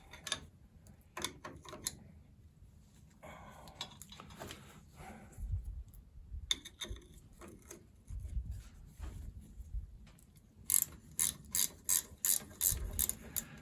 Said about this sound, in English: These ratcheting wrenches, they're amazing.